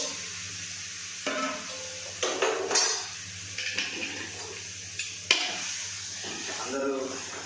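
Spiced chicken, mixed with salt, chilli and turmeric, tipped into a pot and stirred, giving a run of irregular metallic scrapes and clatters from utensil against pot over a low steady background hum, with faint voices now and then.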